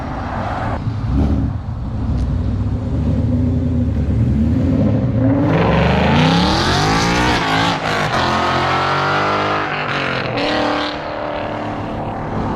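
A loud supercharged Lamborghini Huracan race car engine revs up, climbing and falling in pitch several times, sustained and close, with a constant roar throughout.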